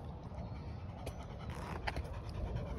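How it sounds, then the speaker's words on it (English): A dog panting quickly and softly close by, a steady breathy rhythm over low background rumble, with a few faint clicks mixed in. "she's a good dog, man. She's a good solid dog."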